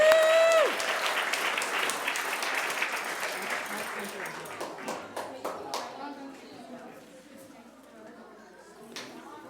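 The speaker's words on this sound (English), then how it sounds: "Can we have a round of applause for them?" A crowd at a Purim Shpiel 2025 gives a loud burst of applause and cheering that gradually thins into scattered individual claps, with voices chattering underneath as it fades.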